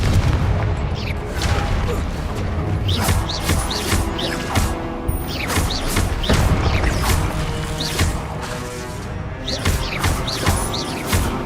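Repeated blasting-spell explosions in the Hogwarts Legacy video game, a rapid series of loud booms and crashes over a dense, continuous battle din, with no pause between hits.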